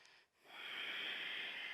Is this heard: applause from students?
no